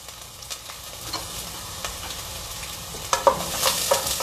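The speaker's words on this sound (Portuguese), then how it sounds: "Então eu vou deixar a cebola dourando aqui." Chopped onion browning in a pan, a steady soft sizzle with occasional stirring scrapes and clicks, close by, no talking.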